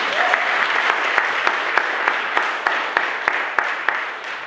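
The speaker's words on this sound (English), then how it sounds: "give that man a round of applause right now" A round of applause from an audience at a candidates' meeting in Pine Plains, New York: sustained dense clapping with some louder claps standing out, steady throughout, a little speech mixed in.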